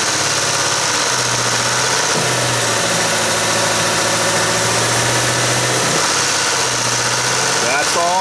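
Ford F150 engine running steadily with the throttle held up, a loud, close mechanical drone with a faint rattling tick, and a person talking over it.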